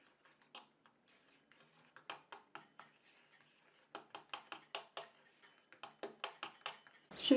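Ingredients for a hair mask are stirred in a bowl with a utensil, giving a string of light clinks and taps against the bowl in uneven bursts. The sound is fairly quiet, close by and without talk.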